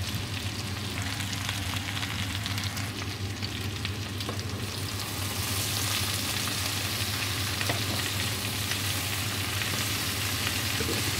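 Potatoes and button mushrooms fry in a pan with a steady, loud sizzle, while occasional scraping and clinks mark the food being turned over, with no voices.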